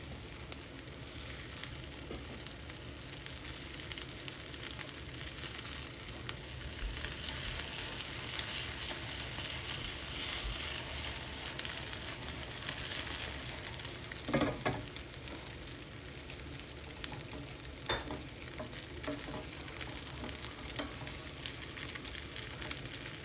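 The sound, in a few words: egg fried pizza frying in a lot of oil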